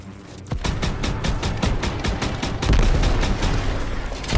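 Rapid repeated gunfire in the Call of Duty: World War 2 campaign, a dense fusillade of loud close shots firing in quick bursts for several seconds under a rumbling battle bed.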